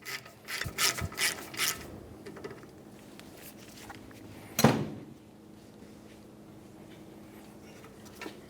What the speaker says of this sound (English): Go ahead and remove the bolt, but keep in mind this is the last thing holding the flex hose to the vehicle.